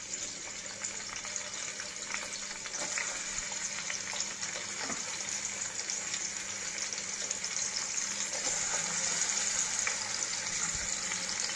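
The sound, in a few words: onions frying in hot oil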